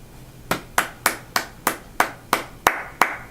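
Nine sharp hand claps in a steady, slightly uneven rhythm, close and fairly loud, each with a short decay and no voices.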